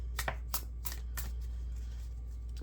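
Tarot cards shuffled for a reading, a few quick riffling bursts and soft slaps near the start that thin out into quiet, with a low steady hum underneath.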